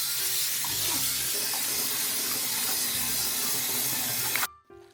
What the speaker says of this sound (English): gently wash the radish 2 to 3 more times